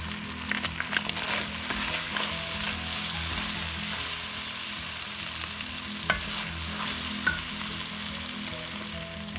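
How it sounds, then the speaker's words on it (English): Onion going into a hot pan and sizzling as it fries in a home kitchen, a steady close crackle with occasional sharper pops and a few utensil clicks, continuous and without voices. "So in goes my onion, and I'm going to add my spices."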